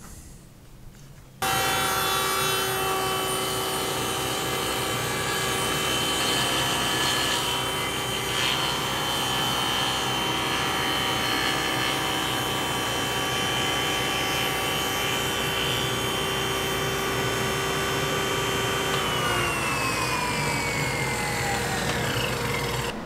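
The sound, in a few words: hollow chisel mortiser cutting mortises in walnut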